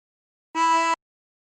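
One short blown note on a tremolo harmonica, hole 9, rings clean and reedy for under half a second with a slight beating waver, isolated in silence.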